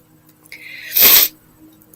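One sharp human sneeze bursts out in the middle, loud and brief, against a quiet room-tone background with nothing else around it.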